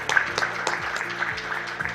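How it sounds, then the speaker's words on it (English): Audience applause at an Asia-Pacific regional heritage committee meeting, a moderate, steady spatter of clapping through the whole clip, under a faint low hum, with no voices standing out. "a big round of applause to them"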